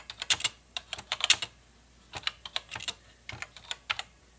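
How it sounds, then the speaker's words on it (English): Keys clack on a TRS-80 Color Computer keyboard as someone types with one hand, in uneven bursts of close, crisp taps broken by short pauses. "Typing with one hand."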